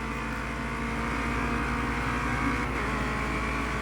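A racing car engine in Project Cars 2 drones at high revs down the main straight to finish the opening lap, a loud, steady sustained roar with no talk.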